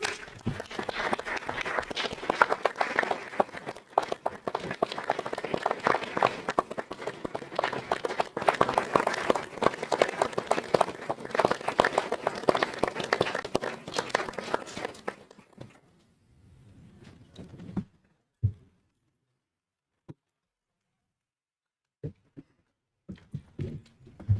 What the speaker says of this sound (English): Please join me in giving these amazing members of our community a round of applause.